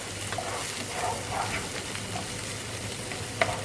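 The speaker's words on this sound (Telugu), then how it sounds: "పచ్చి వాసన పోయేంత వరకు మనం అలా వేగనిద్దాం" Chicken masala frying in a pan, a steady, even sizzle with faint crackles and one sharp clink near the end, heard close and alone with no speech.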